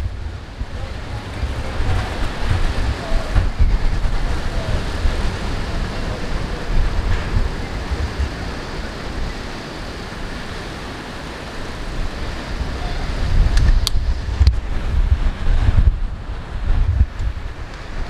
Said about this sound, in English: The wind is too strong, my camera is blowing away.